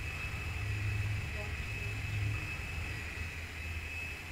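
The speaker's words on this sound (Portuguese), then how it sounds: "o drone vai vir resgatar ele" A drone comes in to retrieve a dinosaur carcass in the Carnivores: Dinosaur Hunt video game, giving a low, steady engine drone that swells slightly and holds throughout.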